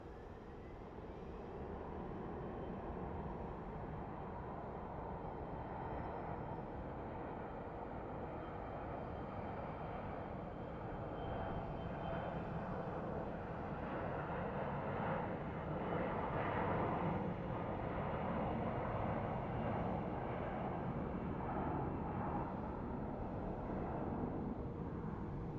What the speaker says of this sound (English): let's watch this Southwest land.